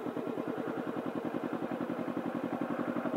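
A Kawasaki Ninja 300 motorcycle rolls slowly at idle with no throttle or clutch, its engine a steady, rapid, close-up putter of even pulses.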